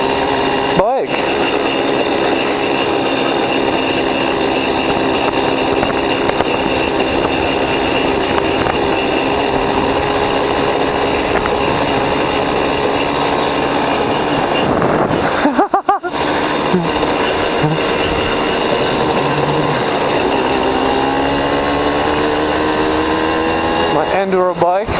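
A 50cc enduro dual sport motorcycle being ridden in the Czech Republic, its small engine buzzing steadily and close with rising revs toward the end, while people talk over it.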